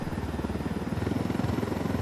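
Helicopter in Ghost Recon Wildlands, a close, steady rotor chop with rapid rhythmic thumping and engine drone, heard alone with no talk.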